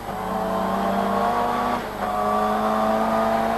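A Ford Sierra RS500 Cosworth, a 500-horsepower saloon car, drives by with a loud, steady engine drone, a sharp drop in pitch at a gear change, and then a pull back up under power.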